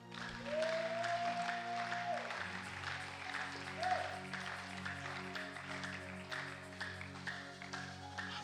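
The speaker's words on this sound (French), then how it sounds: "Est-ce que tu peux acclamer le Seigneur?" A church congregation applauding the Lord, steady crowd clapping throughout with a sustained organ or keyboard tone underneath and a few voices calling out.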